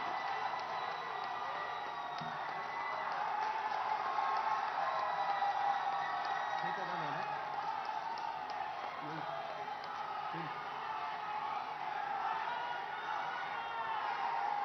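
A large audience at a government foundation-stone ceremony at IIM Sambalpur, Odisha, claps and cheers to welcome Prime Minister Narendra Modi, a steady dense roar of applause and whoops with occasional voices mixed in, sustained throughout.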